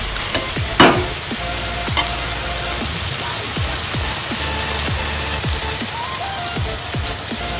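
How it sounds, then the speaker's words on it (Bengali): Chicken fried rice ingredients sizzle steadily in a hot pan while a utensil scrapes and stirs in repeated strokes, with a couple of sharper clanks near the start. "এগুলো দেওয়ার পরে এটাকে একটু ভাজা ভাজা করে নেবে।"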